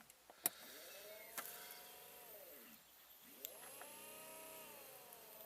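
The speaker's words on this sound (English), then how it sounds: "that's just going to run the pump" A small electric pump on a home-made window cleaning control panel runs in two spells, each a whining hum that rises, holds, then winds down with a pause between, near and quiet apart from a few clicks.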